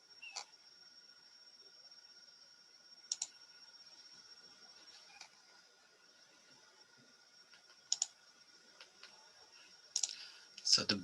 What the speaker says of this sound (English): let's go ahead and click on the simulation link